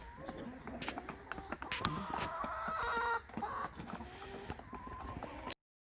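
A chicken clucking near cats waiting for food, with several short, irregular clucks and scattered clicks and taps over a steady outdoor background, fairly close but not loud.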